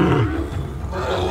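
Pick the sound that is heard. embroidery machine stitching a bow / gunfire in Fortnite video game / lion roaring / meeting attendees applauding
lion roaring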